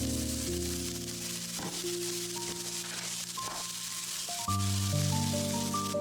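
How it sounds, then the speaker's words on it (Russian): Soft, steady sizzling of zucchini frying in a lightly oiled pan, with faint background music tones running underneath. "Сковороду слегка смазываем растительным маслом и аккуратно выкладываем кабачок ровным слоем"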